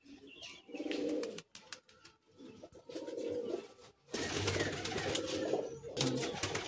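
Pigeons in a champion racing-pigeon loft at Bagnan, a gola-line look-alike pair among them, coo in soft, repeated throaty bursts, fairly faint and close with short pauses, then a denser stretch of overlapping calls.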